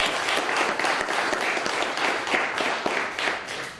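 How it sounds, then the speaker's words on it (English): An audience at a work-ready community celebration in Lincoln County gives a team a round of applause, with dense, loud, continuous clapping throughout and no voices over it. "So I think they deserve a round of applause."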